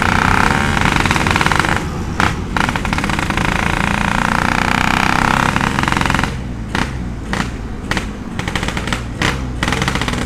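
A Yamaha RX-King motorcycle with a half-race exhaust revs hard close by, a loud, choppy, rattling roar with rapid popping bursts and brief dips between throttle blips.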